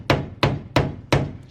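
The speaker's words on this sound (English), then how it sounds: "might need a little more room to hammer" A hammer pounds a dent out of a steel van door in four evenly spaced, loud metallic whacks, each ringing briefly before the next.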